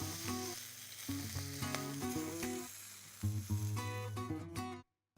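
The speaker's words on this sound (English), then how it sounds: "Just before it's finished cooking, we can move it to the edge of the pan just to sear the outside." A Scotch beef steak searing at the edge of a hot pan near the end of cooking, giving a steady, close sizzle that fades out abruptly at the end.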